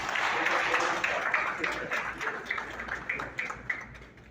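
An audience applauds at a youth government investiture ceremony in Haiti, a steady wash of many hands clapping at moderate volume that gradually thins, with some voices mixed in.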